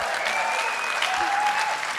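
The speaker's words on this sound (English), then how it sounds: "Wait, so you're only going to clap for Susanna?" Brief audience applause at an International Trade Centre 60th anniversary celebration, steady clapping from a crowd throughout.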